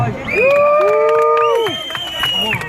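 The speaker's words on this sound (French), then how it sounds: "Applaudissez pour vous-même" A crowd at a Cameroonian demonstration near the UN in New York lets out loud cheers, whoops and shouts, sustained high voices for several seconds, close and dense.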